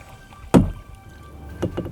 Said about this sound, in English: Yeah, paddling is kind of boring